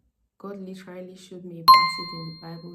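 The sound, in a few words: phone notification ding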